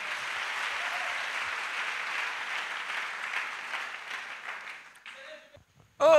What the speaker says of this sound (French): Acclamons pour Jésus-Christ. Clap for Jesus.